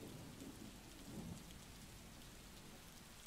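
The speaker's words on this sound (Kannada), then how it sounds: "ಧಾರಾಕಾರವಾಗಿ ಸುರಿತಾ ಇರುವಂತಹ ಭಾರೀ ಮಳೆಗೆ ಅವಾಂತರ ಸೃಷ್ಟಿಯಾಗ್ತಾ ಇರುವಂತದ್ದು" Heavy torrential rain pours down in a town neighbourhood, a dense, unbroken roar of water that holds steady throughout with no voices.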